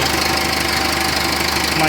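Engine of a 2004 Dodge Stratus with a suspected bad PCM, idling: a steady, even low hum with a fine regular pulse, close and continuous for about two seconds.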